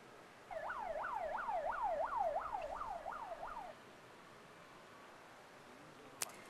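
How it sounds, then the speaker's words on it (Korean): A wailing emergency siren rises and falls in a steady rapid cycle of about eight sweeps, loud and alone, then cuts off abruptly, leaving quiet room tone and one sharp click near the end. "혹시 방금 사이렌 소리 들으셨나요?"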